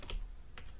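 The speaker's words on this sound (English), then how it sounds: "as I'm typing here" Two crisp keystrokes tap on a computer keyboard with a short pause between them, close and quiet, without any talk.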